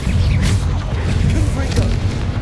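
The Bombarda spell explodes in the game Hogwarts Legacy as a loud, dense run of booming blasts and rumbling impacts that fill the whole stretch without pause.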